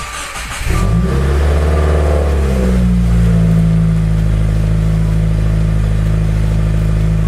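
A 2015–2018 Subaru WRX fitted with a Boomba blow-off valve starts up with a brief cranking clatter, then settles into a loud, close, steady engine drone with a slight rise in revs, heard alone.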